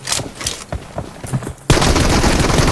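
Rapid gunfire from the PUBG Mobile shooter game, first as scattered shots and clipped bursts, then a loud, dense volley of continuous automatic fire filling the last second.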